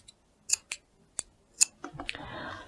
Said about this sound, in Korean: 자, 이렇게 잘라주고 곡선 부분은 가위밥을 좀 해주면 좋습니다.